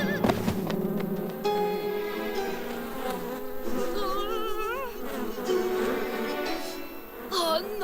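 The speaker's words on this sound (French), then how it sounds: "C'est une ruche pleine d'abeilles!" Cartoon bees swarm and buzz inside a hive, a loud, continuous droning hum with wavering pitch that fills the whole stretch, with music-like tones running underneath.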